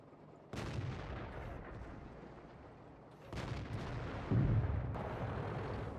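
Heavy tank cannon fire in World of Tanks from an Object 140 medium tank, with several booming, close shots that each leave a long rumbling decay.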